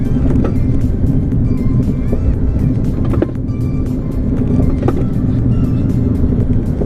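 A Renault Clio engine drones loudly from inside the cabin at a steady pace on a track out lap, with sharp rattling clicks scattered throughout.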